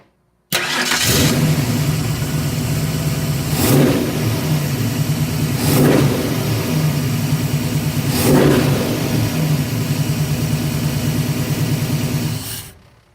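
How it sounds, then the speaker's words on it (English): A car engine runs steadily and is revved three times, each rev rising briefly above a loud, continuous idle, during PCV valve maintenance. "as the engine is revved"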